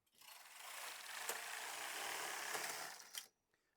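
A knitting machine with a ribber, set to its tightest tension, knits one zigzag row. The carriage sweeps across in a single smooth, clattering pass of about three seconds, with faint ratchety clicks, then stops abruptly.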